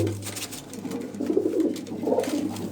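Soft, low cooing of pigeons repeating under a faint background hum, with gentle rustling nearby.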